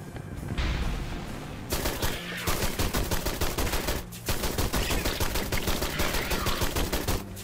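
Rapid automatic gunfire in the Western alien shooter game Dust and Aliens, loud and close, with sustained bursts of repeated shots broken by brief pauses, no talking.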